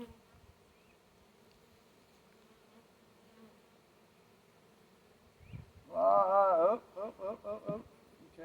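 Honey bee swarm being boxed into a ten-frame hive, a steady low insect drone that swells into a loud, close, pulsing buzz in the last seconds.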